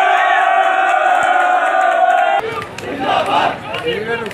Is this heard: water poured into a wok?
no